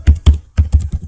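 Keystrokes on a computer keyboard, five distinct clacks in irregular rhythm, close and fairly loud with no talking.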